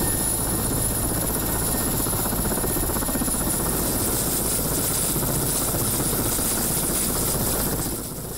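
Helicopter flying on a supply run to a remote tundra settlement near Nes, its rotor thumping in a loud, steady beat that lasts throughout, close by, before easing slightly at the very end.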